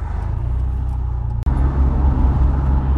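Rover 820 car driving on a motorway with a faulty, smoking near-side rear brake, a steady loud low engine and road drone with a brief dropout midway, no talking.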